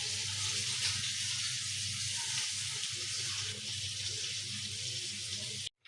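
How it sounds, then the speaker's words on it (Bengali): Warm water runs steadily while chicken feet are washed, an even rushing splash close by that cuts off abruptly at the end. "এই যে হালকা একটু গরম পানি দিয়ে তারপর পরিষ্কার করে নিলাম"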